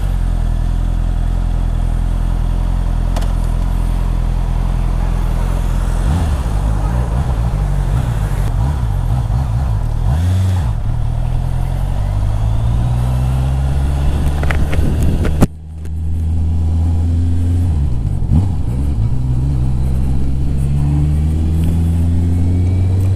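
A Honda CB 650R motorcycle's engine runs loud and steady throughout while being ridden, with rising and falling revs as it accelerates and shifts, plus a brief sharp thump about two-thirds of the way in.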